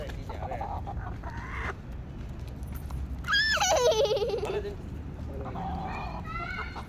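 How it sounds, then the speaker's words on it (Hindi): Chickens clucking nearby with a loud squawking call in the middle, more clucks following, over faint background chatter. "मुर्गी"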